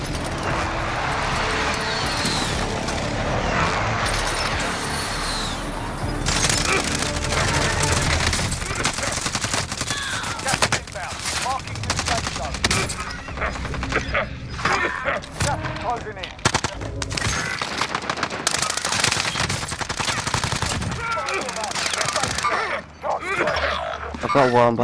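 Pistol gunfire in the Warzone Resurgence video game: rapid cracking shots and bursts over dense, busy game noise lasting throughout, with voices talking over the action.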